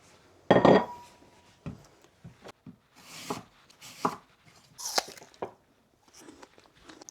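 Knife chopping through a washed, unpeeled apple for homemade kimchi, a loud crunchy cut followed by a series of sharper slicing and tapping strikes on a board at an uneven pace, close up with no talking.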